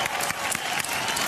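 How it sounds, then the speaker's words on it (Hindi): A television studio audience at a reality-show grand finale claps loudly for a performer, a brief, dense burst of applause with a few scattered cheers underneath. "सुदेश जी के लिए जोरदार तालियां"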